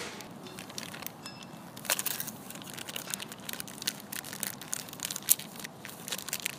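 Plastic wrapper of a surprise collectible toy packet being torn and crinkled open, close and fairly faint, as a continuous run of crackling and crumpling with scattered sharper rips.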